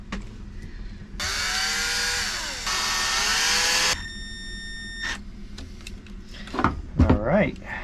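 A power driver runs screws back into a Maxxair RV roof fan during a circuit board and motor repair, giving two sustained whirring bursts with a pitch shift, a brief tone after, then clattering handling noises near the end.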